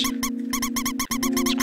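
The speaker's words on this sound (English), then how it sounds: "Squeak. Because the mouse is right there." Repeated squeaks of a mouse in the Undertale video game, a rapid series of bright, chirpy chiptune-style blips over a steady tonal hum, loud and close with no talking.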